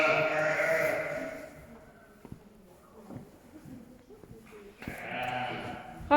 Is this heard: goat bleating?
yes